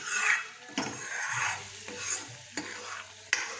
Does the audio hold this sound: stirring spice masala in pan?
yes